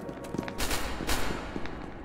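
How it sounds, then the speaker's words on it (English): A few sharp gunshots from the video game SCP: Secret Laboratory pop in quick succession midway, fairly close, against a noisy in-game background. "Let me shoot you in the feet."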